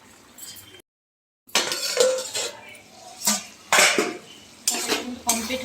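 A pot of cabbage curry on the stove is handled with several metallic clanks and clinks as a lid is set on and shifted, in short separate bursts with a brief silent gap.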